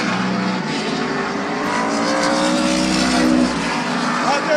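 Stock cars race around Midvale Speedway during a fall classic, engines droning loud and continuous with rising and falling pitch as the pack sweeps past, a commentator talking over the roar.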